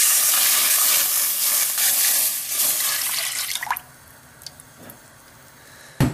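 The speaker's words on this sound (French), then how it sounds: "Dans une autre casserole, versez le demi-litre de lait." Milk poured from a container into a saucepan while making caramel flan, a steady liquid stream for about four seconds that stops, followed by faint drips and light kitchen clatter.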